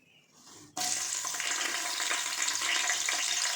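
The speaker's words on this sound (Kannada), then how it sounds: "ಸಾಸಿವೆ ಜೀರಿಗೆ ಹಾಕೋತಾ ಇದ್ದೀನಿ ಫ್ರೆಂಡ್ಸ್ ಈಗ ಕರಿಬೇವು ಹಾಕೋತಾ ಇದ್ದೀನಿ" Mustard seeds, cumin and curry leaves hit hot oil and burst into a loud, steady crackling sizzle after a brief quiet moment, continuing close and unbroken with no voices.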